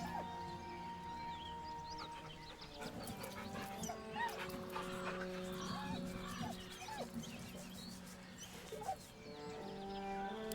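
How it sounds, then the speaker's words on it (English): A dog in the Baldur's Gate video game lets out whimpers and yips over a layered game soundtrack with sustained tones. "a deep, heartbroken whine, the dog bows his head"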